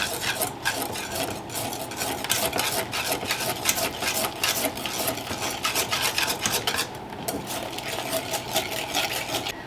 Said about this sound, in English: I'm going to go ahead and mix these together now with my whisk until everything is nice and smooth